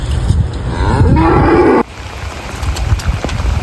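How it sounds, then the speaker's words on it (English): Cull cows moo loudly while being loaded outdoors on a farm, with one long, drawn-out bellow up close that cuts off sharply and is followed by quieter shuffling and background noise. "We're just going loading these now. These are the culls."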